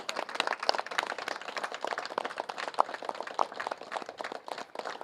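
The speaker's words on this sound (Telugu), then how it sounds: "ఎన్నిసార్లు చప్పట్లు కొట్టినా సరిపోదు." An audience claps at a pyramid opening ceremony in Meerpet, a steady ragged patter of many hands that keeps going unbroken at moderate volume for several seconds.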